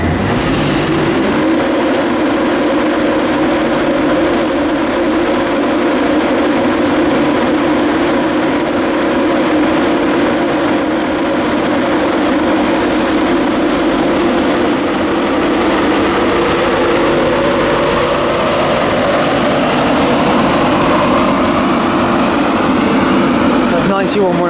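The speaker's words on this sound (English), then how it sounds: "departing now is the 1441 LNER service to Leeds from London King's Cross" An LNER service pulls out of Grantham for Leeds, its engine hum and rolling rumble building steadily over a broad wash of station noise, with a voice speaking over it and a couple of short high squeals near the end.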